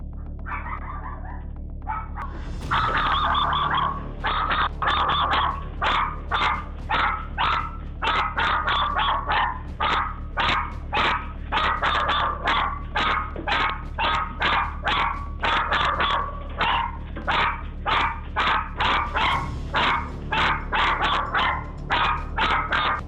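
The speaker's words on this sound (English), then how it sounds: "The dog is excited to see her." A dog barks excitedly at an intruder inside a hotel or rental home, a long run of sharp, evenly spaced barks, loud and close, continuing steadily with short pauses and no talking.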